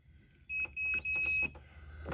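A multimeter set to continuity beeps as a Yamaha WaveRunner XL800 switch, clipped to its leads, is pushed: three steady high-pitched tones in quick succession, each lasting about a fraction of a second, close and clear with no talking.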